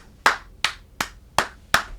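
Five sharp, evenly spaced claps ring out alone against a quiet background, each a crisp, close slap that decays quickly.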